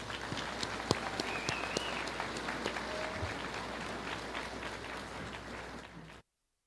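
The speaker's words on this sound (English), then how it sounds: "Please give them a round of applause." A high school graduation audience claps steadily for the school orchestra, a dense, even wash of applause from a large crowd that stops abruptly at the end.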